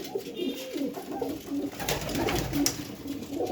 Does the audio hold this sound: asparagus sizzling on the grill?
no